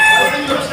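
A single loud, close rooster crow at a chicken market, lasting under a second.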